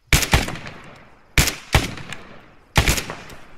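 Gunfire in the military shooter Arma 3: three loud, sharp shots spaced about 1.3 seconds apart, each followed by a quick echoing second crack and a decaying tail, with no talking.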